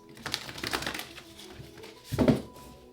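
Tarot cards being shuffled by hand in short papery riffles, the last one louder and fuller than the rest, with soft crinkling between.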